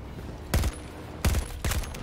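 An AC-42 rifle fires in the Battlefield 2042 video game, with three short, sharp bursts of rapid shots separated by brief pauses, punchy and close over a low ambient rumble.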